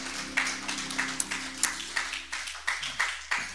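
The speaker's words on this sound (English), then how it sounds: "Give the Lord a hand clap of praise." At a Wednesday evening gospel tabernacle service, a congregation claps in praise in a steady rhythmic beat. The claps are close and distinct over held musical tones that fade partway through.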